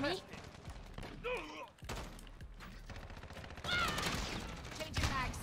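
Heavy gunfire in Call of Duty: Modern Warfare during a hardpoint multiplayer match: dense, rapid bursts and overlapping shots, close and loud, with voices talking over the fighting.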